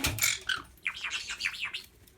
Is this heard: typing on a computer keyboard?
no